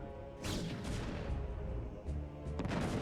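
Reaver Scarab shots exploding in the video game StarCraft: Brood War, heard as a couple of muffled booming impacts over a dense, noisy game soundscape at moderate volume.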